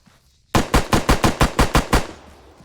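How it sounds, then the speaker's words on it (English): Arma 3 video game rifle fires about nine sharp, loud shots in semi-automatic mode at an even, quick rhythm after a short silence, with a brief echoing tail after the last shot. "So use the semi-automatic fire most of the time."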